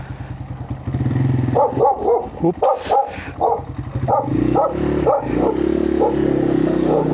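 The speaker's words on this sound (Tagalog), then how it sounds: "Naku, yung aso, sinusundan tayo." A dog barks repeatedly in short, loud yaps while chasing a motorcycle along a rural road after a typhoon, with the motorcycle engine droning steadily underneath and a brief spoken remark.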